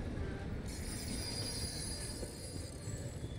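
Trains pass in a video game, a faint steady rumble of rolling wagons with a thin high squeal of wheels, continuous with no talking.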